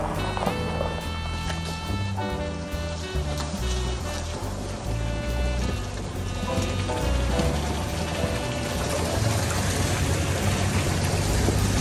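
A 4x4 vehicle drives through a water crossing on Medano Pass at Great Sand Dunes, with continuous loud rushing splash and engine rumble, plus rattling clanks from the vehicle throughout.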